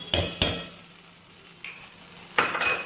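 Ginger, garlic and green chili tipped into a hot pan and fried; sharp bursts of sizzling and stirring scrapes come in quick clusters at the start and again at the end, with a quieter hiss between.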